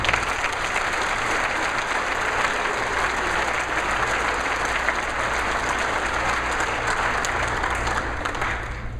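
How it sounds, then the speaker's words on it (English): An audience at a Pennsylvania American Legion baseball hall of fame speech breaks into dense, steady applause that holds loud and even for the whole stretch, with no voices over it. "join me in a round of applause for the people that have done it for me and the people that have done it for you"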